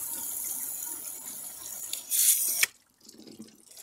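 Water splashes and runs steadily into a Kia Ceed washer pump and reservoir, a close, continuous hissing pour that surges louder briefly, then cuts off abruptly, leaving a faint trickle.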